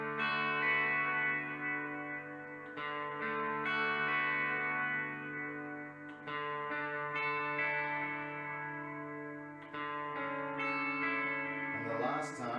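Electric guitar chords ring out with a delay effect for a worship song, sustained strums repeating and echoing over about twelve seconds, loud and alone with no talking.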